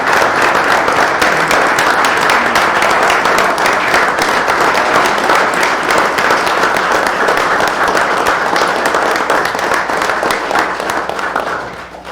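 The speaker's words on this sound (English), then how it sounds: "would our guests please stand so we can give you a round of applause" A sustained round of applause for standing guests at a town board meeting, a dense and loud crowd clapping that holds steady for many seconds before easing at the end.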